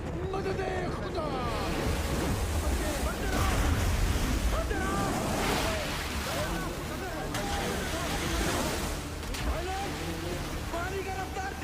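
Flowing river water rushes loudly and steadily at close range, a continuous broad wash that runs the whole time, with voices speaking over it.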